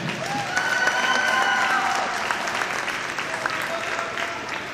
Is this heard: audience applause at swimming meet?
yes